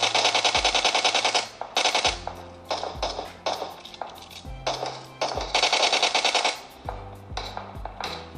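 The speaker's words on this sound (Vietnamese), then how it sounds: "Tự dưng bắn nhau nhiều thế." Bursts of rapid gunfire and sharp shots from a mobile shooter game on a Realme X2 Pro, loud and close, with repeated automatic volleys separated by short gaps and no talking.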